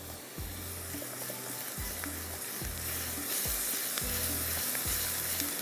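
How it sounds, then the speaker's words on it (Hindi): Onion frying with ground coriander, ginger, garlic and salt, a steady close sizzle broken by repeated scraping stirs every second or so, no talking. "थोड़ा सा इसको इस तरह से भूनेंगे प्याज के साथ"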